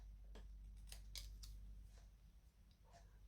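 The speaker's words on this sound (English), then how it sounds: "I'm going to cut it" Scissors cutting paper into a smaller strip for a handmade desktop calendar, a few soft crisp snips near and faint against a steady low background hum, no talk.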